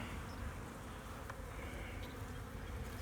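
Honeybees buzzing steadily around an open beehive during a hive check, a dense, even drone that holds throughout, with no talking.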